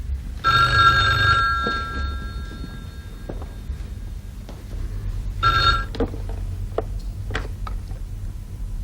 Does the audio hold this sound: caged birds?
no